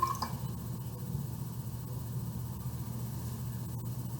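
Liquid solution poured into a cauldron during a library magic-potion demonstration, a faint steady trickle and drip over low background rumble, close and continuous, with no talk.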